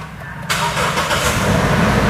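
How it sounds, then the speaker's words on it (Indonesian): Toyota Land Cruiser Prado engine fires up from a start-stop button: a quiet cabin gives way at once to a steady, loud idle rumble that holds through the rest. "Untuk menyalakan mesinnya tinggal injek rem dan tekan tombol engine start stop"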